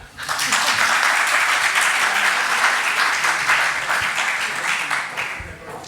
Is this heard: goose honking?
no